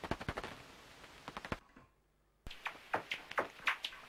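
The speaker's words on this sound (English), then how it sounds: "So this is a Dorbenton's bat." Daubenton's bat echolocation heard through a bat detector, a rapid dry rustling train of clicks that breaks off into a brief silence, then resumes with more spaced, crackling pulses, close and clear.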